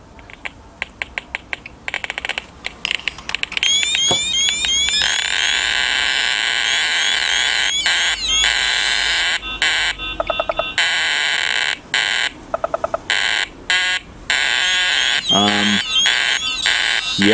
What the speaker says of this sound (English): the alarms are going off on the Radiacode